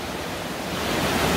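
A waterfall roars inside a cave as a large volume of water pours down, giving a dense, loud, continuous rush that fills the whole short moment with no voices.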